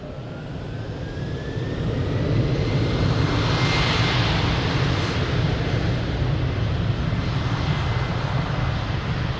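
A jet airliner takes off from runway 02 at Lisbon Airport, its engines a loud, steady roar that swells after the first two seconds and holds, with a broad rumble and a hissing whine on top.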